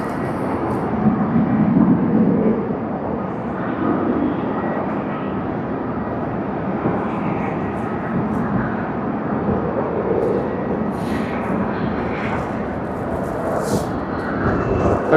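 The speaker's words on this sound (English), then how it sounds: "we see one Japan Airlines, Boeing 787-9" A Japan Airlines Boeing 787-9 jet at Tokyo Haneda Airport gives a steady, broad engine roar that holds at an even, fairly loud level throughout, with no voices.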